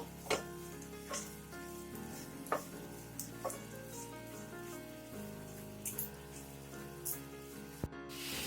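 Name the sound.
spice masala frying in a pan for Pathrode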